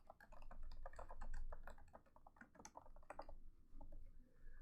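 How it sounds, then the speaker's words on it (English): Someone types on a computer keyboard, making quiet, irregular bursts of small key clicks that trail off near the end, heard alone and close by. "I start typing my story about how to stay safe in school."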